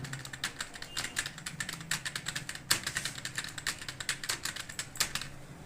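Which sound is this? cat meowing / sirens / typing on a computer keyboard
typing on a computer keyboard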